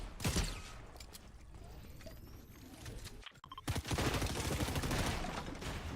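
Rapid rifle fire in a Fortnite Duos Reload LAN tournament match, hammering player-built structures: dense, loud bursts of shots that briefly drop out, then come back as sustained, close gunfire under game noise.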